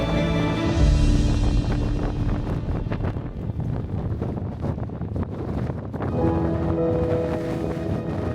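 Strong wind roars across a mountain summit trail in Denali, Alaska, buffeting the microphone in loud, continuous gusts for several seconds with no talking.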